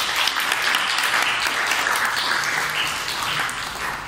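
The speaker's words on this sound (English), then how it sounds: "So please give yourself a round of applause." Audience applause at a Toastmasters club's 35th anniversary gathering in Malacca, steady dense clapping throughout that gradually eases toward the end.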